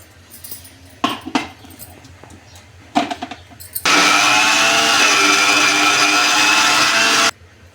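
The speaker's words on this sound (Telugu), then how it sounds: "వాటర్ వేసుకొని మిక్సీ పట్టుకున్నాం" A few clunks and rattles, then a mixer grinder blending raw mango chutney with water roars loudly and steadily for a few seconds before cutting off abruptly.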